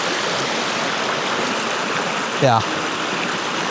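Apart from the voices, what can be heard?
creek flowing over rocks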